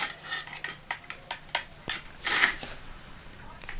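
A knife slicing a steamed egg dish into long strips on a plate: soft irregular taps and scrapes with small metallic clinks, close and fairly quiet.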